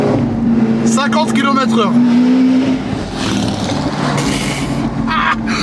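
A Lamborghini fitted with a full straight-pipe exhaust drives through town, its engine a loud, raspy, continuous drone that rises and shifts in pitch while a voice talks over it up close.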